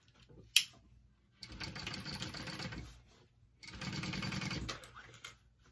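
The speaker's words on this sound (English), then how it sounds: "we're going to top stitch that down" A sewing machine top-stitches down the main panel seam of a handbag, running in two close bursts of rapid mechanical whirring, each lasting over a second, separated by quiet pauses.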